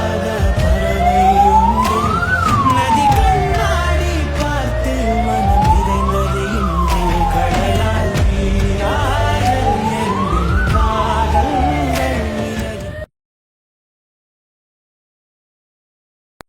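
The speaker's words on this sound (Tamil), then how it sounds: "ஒரு உயிரை காப்பாற்றுறதுக்காக ஆம்புலன்ஸ் போயிட்டுருக்கு" A loud ambulance siren wails in steady rising and falling sweeps over traffic rumble, sounding close, then cuts off abruptly into silence.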